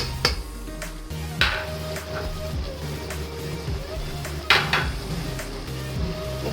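A utensil clanks and scrapes against a pan while fish katakat is mixed with ground red chili at a Karachi street food stall, with sharp metallic knocks recurring over a busy, noisy background.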